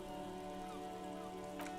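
Soft, steady rain falling on surfaces in the video game Disco Elysium, faint and continuous beneath a low background hum, with a short brighter patter near the end.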